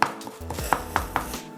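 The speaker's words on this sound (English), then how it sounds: "with the chive, we're going to cut off the end, and then we're going to just thinly chop it into like little bits" A knife chops chives on a cutting board in a run of five or six crisp, evenly spaced strokes, close and clear with no talking.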